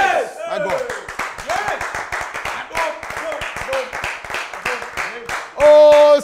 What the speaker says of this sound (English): somebody clap your hands and shout grace 3 times